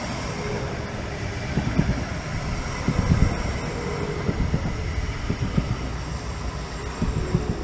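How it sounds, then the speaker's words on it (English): A metro train pulls away at night with a steady, loud rumble of rolling wheels and clattering bumps over the rail joints, heard from inside the carriage. "Train departing."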